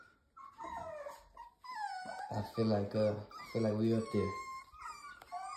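Three-week-old Rottweiler puppies whimper and wail in high, wavering cries close by, nearly nonstop over someone talking.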